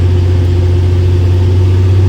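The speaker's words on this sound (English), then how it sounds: "We're in a tractor running our disc." A tractor engine runs while pulling a disc harrow through a field, giving a loud, steady, close-up low drone with a constant hum and no voices.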